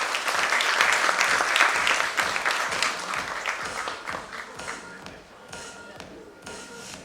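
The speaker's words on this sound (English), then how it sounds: "A big round of applause for our panelists." Audience applause for panelists at the inaugural session of a nursing conclave in a Mumbai hotel ballroom, steady dense clapping that is loud at first and gradually thins and fades over seven seconds.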